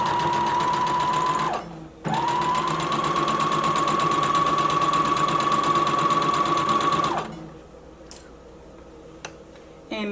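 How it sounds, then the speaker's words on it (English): Sewing machine stitching the pocket of a drawstring elastic-waist maxi skirt: a loud, rapid mechanical whir that pauses briefly, then runs steadily for several seconds before stopping, leaving a few small clicks. "I'm going to lower my presser foot back down and continue sewing"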